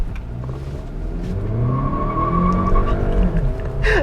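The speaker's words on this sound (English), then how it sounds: "The tires were squealing here." A 2022 Kia Sportage SX with a 2-liter four-cylinder launches hard from a brake-torque start in sport mode, engine roaring steadily as the tires squeal in rising, drawn-out chirps, loud and close.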